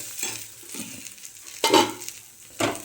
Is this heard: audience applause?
no